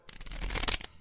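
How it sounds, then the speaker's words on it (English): A deck of playing cards is shuffled at a card table during a game, giving one brief, close riffle of flicking card edges. "It's my turn to shuffle."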